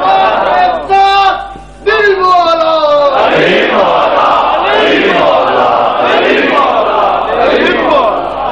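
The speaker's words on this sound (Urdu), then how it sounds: "بے شک مجمع میں پیچھے بیٹھے ہیں لیکن نعرے میں پیچھے نہ رہا کریں" Crowd at a Muharram majlis in Lahore shouting a religious slogan together, a loud massed roar of voices rising after a single leading call, sustained and swelling for several seconds close to the microphone.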